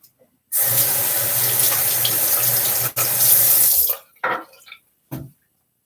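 A tap runs loudly to rinse a shaving razor, a steady rush of water for a few seconds that briefly breaks, then stops, followed by a few short splashes and drips in the sink.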